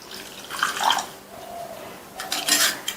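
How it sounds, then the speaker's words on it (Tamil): Warm water is poured into a cup of semolina with a pinch of salt, giving a brief close splash and trickle, a quieter pause, then a second burst of pouring and splashing. "இந்த கப்ல கொஞ்சமா ஒரு 1/8 டீஸ்பூன் அளவுக்கு சால்ட்டும் 1/3 கப் அளவுக்கு வெதுவெதுப்பான தண்ணி சேர்க்கிறேன்"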